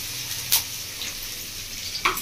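Capsicum and onion sizzling in a pan for mutton curry, a soft steady hiss broken by a couple of sharp scraping stirs of a spatula.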